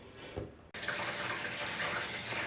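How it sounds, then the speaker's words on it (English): Water pours steadily into a bathtub being refilled while a guinea pig fleece is washed by hand, a brief quieter patch and a soft knock giving way to a loud, continuous gushing rush close by. "So I'm currently refilling the bath up."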